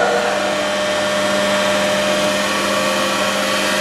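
A DC motor running steadily at 1200 rpm in a lab speed-control setup gives a loud, continuous whirring drone with a steady tonal whine, unchanging from start to finish and with no voices.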